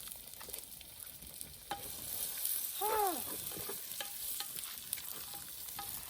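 Onions fry in a pan on an outdoor wood-fired stove for mutton curry, a soft, steady sizzle with scraping stir strokes, fairly quiet and close.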